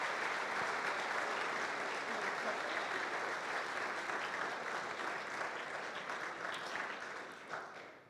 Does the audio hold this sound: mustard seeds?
no